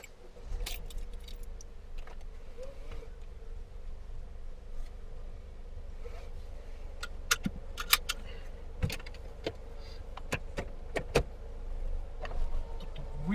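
The electric window of a 2006 Mercedes-Benz A200 turbo (W169) hums steadily upward on a cold day, a low motor whine running under sharp jingling clicks of keys inside the car.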